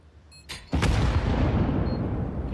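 A flashbang grenade goes off in a competitive first-person shooter match: a short thump and click, then a loud burst opening into a sustained roaring wash of noise.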